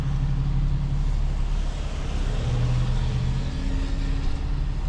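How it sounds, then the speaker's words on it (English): Cars move slowly through a parking lot, a loud, steady engine and road rumble heard close with no talk. "so 2 cars moved ahead"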